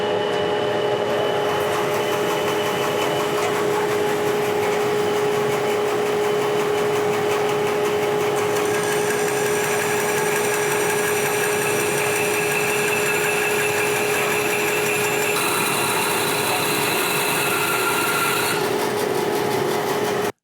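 Grizzly bandsaw running and cutting a 2x4 in half freehand, a steady motor hum with a constant tonal whine and a brighter rasping cut layered in midway, continuous and close with no talking.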